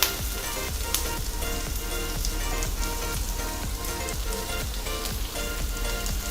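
Chopped ginger sizzling in roasting masala in a pan for Kolhapuri mutton rassa, a steady close crackle with dense popping and spitting throughout.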